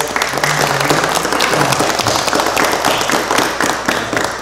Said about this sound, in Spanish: un aplauso a todos los estudiantes